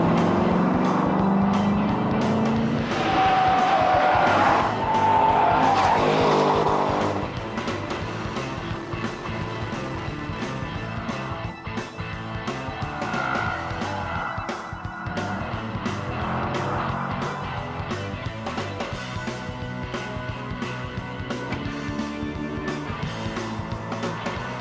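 Corvette race car driving at the 24th hour of a 24-hour test, a steady loud engine roar with shifting pitch as it runs continuously, near and unbroken throughout.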